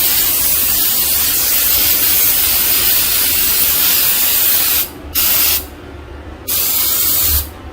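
Flex Seal spray can hissing in long steady bursts near the mic, with short pauses between sprays, used to fix a shower leak.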